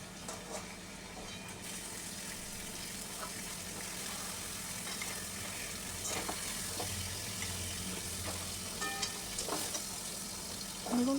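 Fish wrapped in pumpkin leaves cooks in a pan, giving a steady low sizzle with occasional stirring scrapes and light clinks throughout, nobody speaking.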